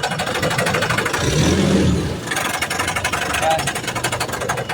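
Diesel engine of a Nissan Terra running rough, with a fault near the converter underneath: a close, loud, uneven pulsing idle with a rhythmic knock, a brief swell partway through, and someone talking over it.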